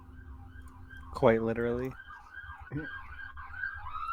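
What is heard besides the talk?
siren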